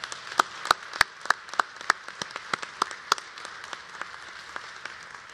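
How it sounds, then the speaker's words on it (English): Scattered applause from family and friends of graduates at a spring college commencement, a thin spread of distinct individual claps ringing out unevenly rather than a dense roar, fairly close and alone without talk. "Let's show them our appreciation by a round of applause."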